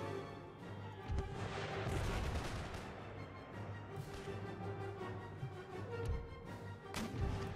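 Howitzer artillery fire in Empire Total War rolls through as repeated booming gun reports and crackling volleys, some close and some far, over a steady battlefield din with no one talking.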